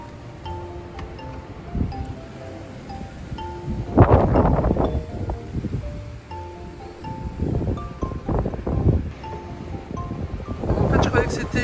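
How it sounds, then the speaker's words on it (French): Strong storm wind gusting and buffeting the microphone by the sea behind a dune fence, loud roaring bursts rising and falling, with a voice speaking over it. "la tempête est encore bien là. Ouais, ça fouette encore."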